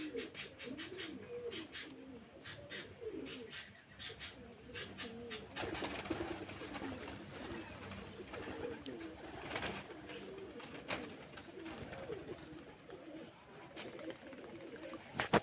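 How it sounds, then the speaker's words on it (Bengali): Released homing pigeons cooing in repeated low throaty rolls across the clip, with sharp flapping bursts and bird chirps from the flock, while faint speech surfaces in the background. "তো আমি এখন আমার পায়রাগুলোকে ছেড়ে দেবো"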